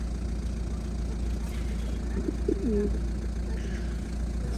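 A pigeon gives a short, low cooing call amid a noisy background hum at an animal market, fairly faint and brief.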